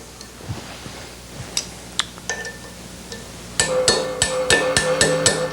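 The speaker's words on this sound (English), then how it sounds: "Just use a regular hammer, whack it a few times" A regular hammer whacking parts of a Porsche 356 engine during assembly, sharp metallic strikes first scattered and light, then a quicker run of louder, ringing blows, close with no talk.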